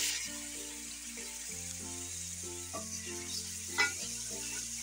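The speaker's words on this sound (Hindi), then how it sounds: "और इसको हमने नमक के साथ हमने करना है फ्राई।" Chicken frying with salt in a pan for a white chicken karahi, a steady close sizzle running throughout under background music, with one brief clatter near the end.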